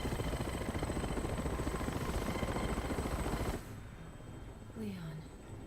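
Helicopter in the Resident Evil 6 video game: a loud, steady rotor and engine roar with a chopping texture fills the first few seconds, then drops sharply to a quieter hum mixed with other game sounds.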